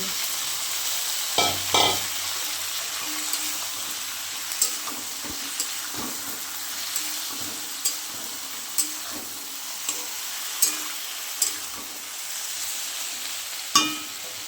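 Ground garlic, onion and mustard paste frying in a pan, a continuous moderate sizzle broken by regular scraping and knocking strokes of a stirring spoon, no voices.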